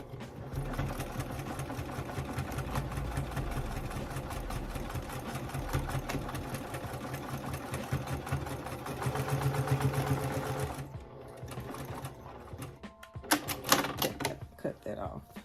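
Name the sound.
sewing machine stitching back and forth over a zipper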